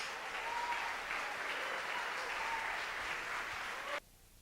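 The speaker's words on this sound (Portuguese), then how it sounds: "Uma salva de palmas para ele bem forte." A congregation in a church applauds loudly, a steady wash of many hands clapping that continues for about four seconds before cutting off abruptly.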